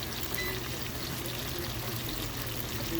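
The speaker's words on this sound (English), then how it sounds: "So then we're going to add a cup of water first." A cup of water poured into beans just cooked in a pressure pot makes a steady, continuous splashing pour, close by with a faint hum underneath and no talking.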